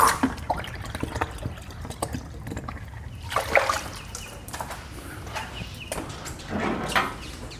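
Water runs and splashes into a container being filled for a pressure washer, an uneven trickling and dribbling with a few louder gushes, close and fairly quiet, no talking.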